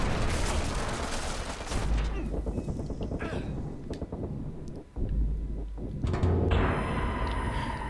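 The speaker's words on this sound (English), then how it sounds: "Damn it, I got sniped" In the Watch Dogs video game, sniper gunfire rings out as loud, dense bursts of shots and rattling blasts with wind-like rushing, broken by a short quieter lull before the firing resumes.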